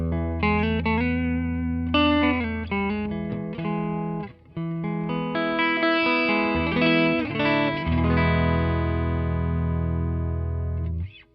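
Clean Telecaster guitar on the neck pickup, played straight into a Princeton amplifier with a touch of amp reverb and miked with an SM57, ringing out sustained chords and picked notes with short pauses, loud and close, no voices.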